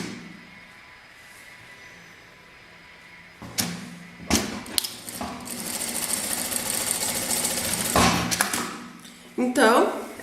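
A sewing machine stitches fabric strips for printed patchwork, starting with short bursts and then running in a steady loud whir for several seconds before stopping, with someone talking before it.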